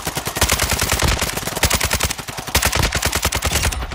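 Rapid automatic gunfire from the video game Call of Duty: Modern Warfare II, loud and close, with dense repeated bursts of shots running continuously and briefly pausing between volleys.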